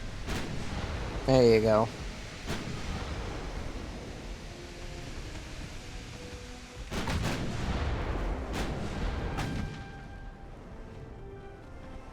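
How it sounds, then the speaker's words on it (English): Battleship main guns firing AP shells in Ultimate Admiral: Dreadnoughts: several sharp, booming shots spaced irregularly, some close together, over a steady sea-like wash, with a brief spoken voice early on. "Could you guys please just fire your AP from your main guns?"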